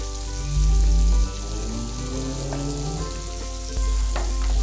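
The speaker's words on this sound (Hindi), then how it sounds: "इसमें हमने ये 2 टेबलस्पून ऑयल के हमने डाले, वेजिटेबल ऑयल है। ये जो हमने चॉप किया हुआ है ऑनियन वो इसमें डालेंगे।" Chopped onion frying in two tablespoons of hot vegetable oil in a pan for tandoori chicken curry, a steady loud sizzle with brief louder bursts as it is stirred, no voices.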